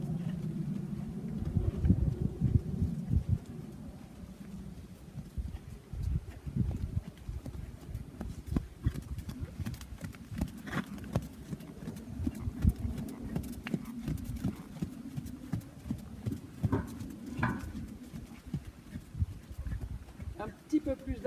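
Horse trotting in a riding lesson in an arena, with steady rhythmic hoof clip-clop throughout and an instructor talking over it at moderate distance.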